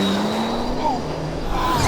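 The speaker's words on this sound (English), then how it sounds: "Launch control, sport mode, brake, accelerate." A Bentley Continental GT Speed launching hard under launch control in sport mode, its engine note climbing steadily as the car pulls away, with a voice talking over the roar.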